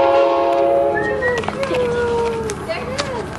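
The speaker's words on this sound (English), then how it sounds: "Big train." Amtrak Train 566 at Solana Beach passes close and loud with a rumbling roll, its horn sounding in long sliding tones, while people talk over it.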